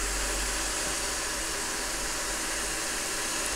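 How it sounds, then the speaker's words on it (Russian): A hot air soldering station blows a steady, loud stream of air during repair of a Pioneer MVH-29BT car stereo, a continuous broadband hiss with no other sounds. "Воздух стоит на фене большой"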